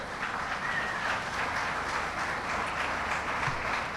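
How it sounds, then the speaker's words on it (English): A crowd at a National Immigrant Heritage Month reception claps in a steady, even wash of applause lasting the whole moment, heard from a little distance with no talking. "let's clap again for that"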